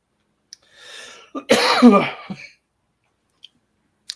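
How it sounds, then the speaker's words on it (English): A persistent cough from a man, a short burst of harsh close coughs with throat clearing, isolated in an otherwise quiet room. "This cough, I can't get rid of this friggin' cough."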